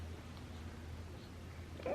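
Gertrude, a pet cat, gives a single short meow at the very end, close and fairly clear over a quiet room hum.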